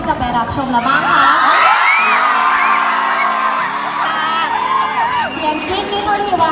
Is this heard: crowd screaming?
yes